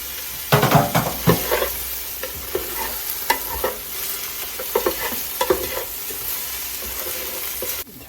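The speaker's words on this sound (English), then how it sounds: "I'm going to let it saute with this" Washed rice sautéing in butter in a pan, a bright sizzle with brisk stirring and scraping bursts near the start, then a steadier crackling fry.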